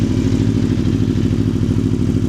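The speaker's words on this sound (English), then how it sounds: "Yes, we've run the bike up. Let's let some oil get round it." An Aprilia Tuono V4 Factory motorcycle with an Akrapovic exhaust idles steadily at close range, its V4 engine giving a deep, even, throbbing burble with no voices.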